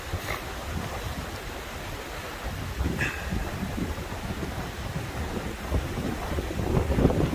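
Wind blows beside a river on the Appalachian Trail after rain, making a rough, gusty rumble that buffets the microphone and swells and eases, with no voices over it.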